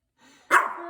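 A single sharp, close dog bark sounds after a faint whine, loud and brief with a short tail.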